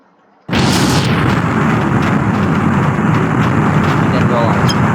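Fireworks exploding in the video game People Playground burst in with a sudden loud blast, followed by a dense, steady roar of crackling detonations that keeps going unbroken to the end.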